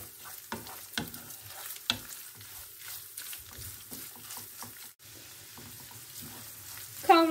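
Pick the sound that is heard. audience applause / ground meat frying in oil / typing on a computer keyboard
ground meat frying in oil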